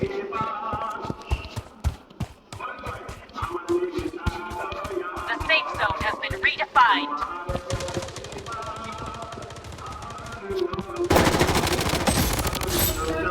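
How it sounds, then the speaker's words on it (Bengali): Rapid automatic gunfire and single shots from a mobile battle royale shooter, bursts rattling near and far over game music and effects, with a louder sustained volley near the end; someone talks throughout. "ভালো প্লেয়ার হয়তো এই জায়গা থেকে একটা ফায়ার করতেছে"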